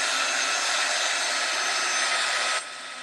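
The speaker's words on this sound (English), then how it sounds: "I'm going to heat gun this a bit." A heat gun blows over a gel plate print: a loud, steady rushing whoosh of hot air that holds for over two seconds, then drops sharply to a quieter hiss near the end.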